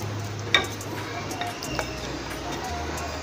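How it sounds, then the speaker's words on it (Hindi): Marinated chicken dropped into hot oil with a spoonful of cumin for a chicken paratha roll, a soft steady sizzle and stirring scrapes, close and fairly quiet. "इसमें मैं डालूँगी 1 चम्मच ज़ीरा, और इसमें मैं डालूँगी जो मैरिनेट करके रखी थी चिकन"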